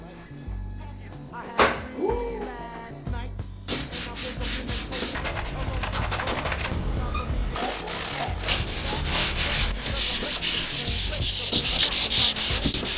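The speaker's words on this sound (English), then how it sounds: "Countertop sanded" A kitchen countertop is sanded by hand with sandpaper in an apartment kitchen, giving rhythmic scratchy back-and-forth strokes that start after a few knocks and handling noises, then grow dense and steady toward the end.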